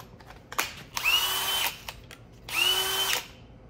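Cordless drill / hammer drill combo run unloaded in two separate bursts, each about half a second long. Each burst spins up with a rising whine, holds briefly and winds down. The drill is close and fairly quiet, with a small click just before the first burst.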